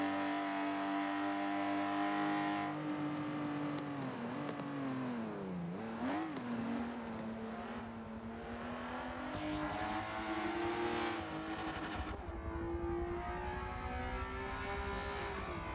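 Race cars lapping Monza in a sim racing game, a loud continuous engine whine that rises and falls in pitch as the cars brake and accelerate through turns, with several overlapping engine tones.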